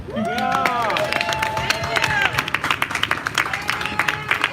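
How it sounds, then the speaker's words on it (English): A protest crowd applauds, a dense wash of clapping mixed with cheers, a few whistles and crowd babble, sustained and fairly loud throughout. "give a round of applause for Vancouver Police"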